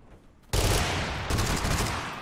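Sudden loud gunfire erupts in Totally Accurate Battlegrounds, a dense burst of rapid shots that runs on without a break after a quiet start.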